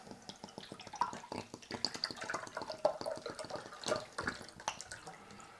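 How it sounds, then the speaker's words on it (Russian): Purified water is poured into an ultrasonic cleaning bath, a soft, close splashing and trickling with small drips, fairly quiet throughout. "Заливаем обычную очищенную воду и ложим наш поддончик."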